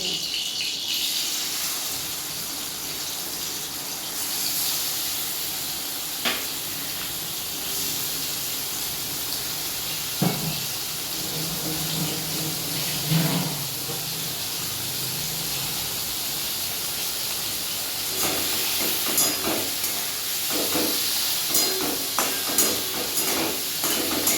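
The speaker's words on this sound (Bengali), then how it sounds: "এবার আমি ওই তেলের মধ্যে চিংড়ি মাছগুলোকেও ভেজে নিই" Prawns sizzle in hot oil in a pan, a steady frying hiss with a few soft clinks and stirring scrapes now and then, and a faint voice in the background.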